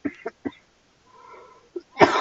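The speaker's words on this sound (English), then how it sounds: "I hope I get over the cough soon." A few short, harsh vocal bursts and a wheezy breath, ending in a loud rough cough, all close and without speech.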